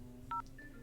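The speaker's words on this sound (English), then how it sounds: "Oh, the triggering sound of phone beeps." Two short electronic phone-dialing beeps sound in the video game Frog Detective 2, a quick dual-tone press followed by a fainter single tone, clean and isolated over a quiet background.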